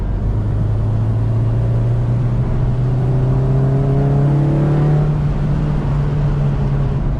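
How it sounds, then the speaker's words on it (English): A car with a swapped Honda K24 engine pulls hard in fifth gear, its loud, close engine drone climbing steadily in pitch under a constant road rumble inside the cabin, with no voices. "I'm in 5th gear right now, guys. If I want to just, if I give it some gas, it's actually going somewhere"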